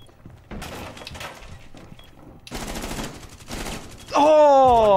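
Automatic gunfire with heavy recoil in Rainbow Six Siege comes in several short, separate bursts, followed by a loud burst of shouting at the end.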